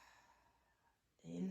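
A breathy exhale on a HA sound during a gentle body rolling shoulder-release practice, starting softly and swelling into a louder, close voiced breath near the end.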